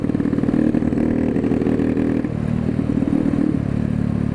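An old 1960s Honda Cub motorcycle rides steadily, its small engine humming with a continuous buzzing drone that shifts pitch slightly partway through, close and loud with faint rattle.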